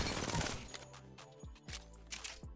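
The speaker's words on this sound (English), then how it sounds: "We're gonna hipfire no laser sight on R99." Hipfire bursts from an R99 submachine gun without a laser sight in Apex Legends, several short rapid-fire volleys separated by brief pauses, close and crisp with no talk.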